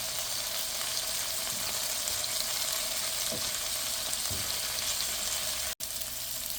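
Bitter gourd frying over high heat in a pan gives a steady, close, even sizzle with a couple of soft low knocks and one brief dropout near the end.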